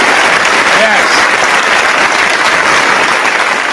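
Steady, loud applause from a crowd fills the whole stretch, dense clapping without pause.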